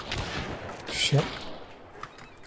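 A gunshot in the multiplayer shooter Hunt: Showdown rings out around mid-clip as a sharp, fairly close crack with a short tail, followed by a fainter distant report, over quiet ambient game sound.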